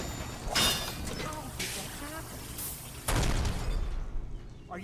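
Whale oil tanks explode in Dishonored as two booming bursts, the second louder and longer, each trailing into rumbling debris, while a voice talks over the scene.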